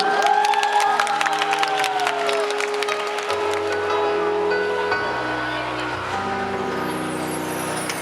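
Audience applause at a Bangkok Environment Day stage event, clapping and some cheering blended with sustained musical tones that carry on as the clapping thins.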